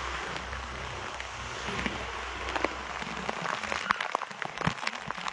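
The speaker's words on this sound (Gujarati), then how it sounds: "દ્વારકામાં અત્યારે આવો વરસાદ આપણે બહુ ઓછો પડે જ ને" Heavy rain falls steadily in Dwarka, a dense continuous hiss with scattered sharp drip and splash ticks growing more frequent, heard outdoors with no one speaking.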